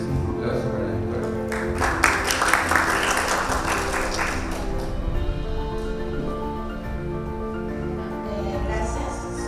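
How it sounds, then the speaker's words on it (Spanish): A conference audience at an international mastology congress claps for a doctor, the applause swelling briefly and loudest in the first seconds, then fading under sustained music and background murmur. "es un aplauso para la doctora"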